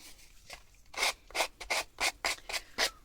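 Fine sandpaper rubbed along the edges of an old bookmark being upcycled, a series of short, close, rhythmic scratchy strokes, about eight passes in quick succession with no talking.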